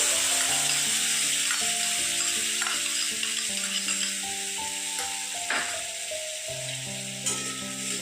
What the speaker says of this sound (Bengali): তেলটা গরম হয়ে গেছে, এবার আমি আমার যে মশলাটা গুলে রেখেছিলাম জিরে আদা দিয়ে দিলাম